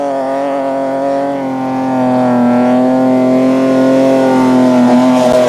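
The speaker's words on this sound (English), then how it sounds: "Desperately trying to deal with the sand, flat out, his foot completely opening the throttle" Nissan pickup truck engine held at full throttle in desert sand on the Dakar rally, a loud sustained droning roar with steady harmonics that swells slightly toward the end, close and alone.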